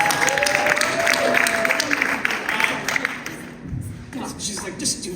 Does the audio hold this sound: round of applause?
yes